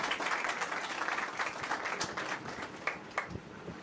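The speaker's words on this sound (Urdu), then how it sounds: "یسوع کے لیے زوردار تالیاں بجائیں" A church congregation gives a burst of applause for Jesus during a sermon, a dense patter of clapping that holds steady at moderate volume before thinning into a few scattered claps.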